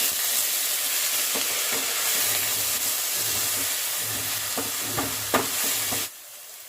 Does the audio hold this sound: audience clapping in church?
no